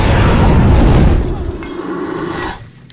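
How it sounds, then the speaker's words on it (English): A deep booming explosion rumbles loudly in the Hitman Absolution video game, heavy low roar swelling for about a second and a half before fading into quieter background noise. "Think I heard an explosion?"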